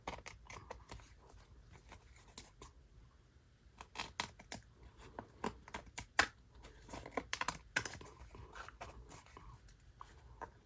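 Scissors cutting excess paper for a mixed media paper doll, quiet close snips and paper rustles in an irregular sequence of short clicks, with no talk.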